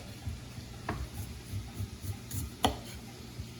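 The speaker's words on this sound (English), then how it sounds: "you can cut the turnip in half" A knife cuts through a raw turnip on a board. Two quiet, sharp cutting knocks stand out from a soft, low background, about a second and a half apart.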